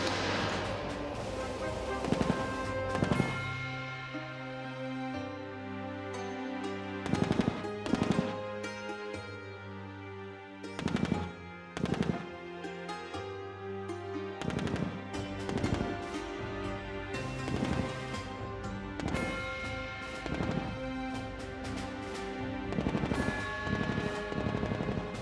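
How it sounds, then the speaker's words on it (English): A 30mm gun on a moving Russian ground combat vehicle fires dense bursts, loud and near, with sharp repeated shots in clusters over about 25 seconds amid a steady mechanical rumble. "A dense fire of the 30mm gun on the move."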